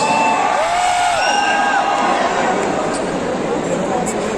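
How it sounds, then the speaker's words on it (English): A crowd at a KGF Chapter 2 promotional event with actor Yash cheers, whoops and shouts loudly and continuously, many voices blending into a dense roar close by. "A round of applause."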